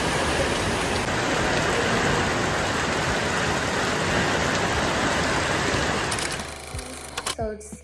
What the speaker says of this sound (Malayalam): നമ്മളിതാ തിരിച്ച് വന്നപ്പോഴത്തേക്കും ഭയങ്കര മഴ.